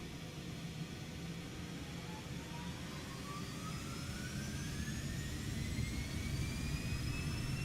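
Twin jet engines of a Cessna Citation X in X-Plane 12 spool up to takeoff power, a steady, loud broadband roar with rising turbine whines climbing through the clip, no voices.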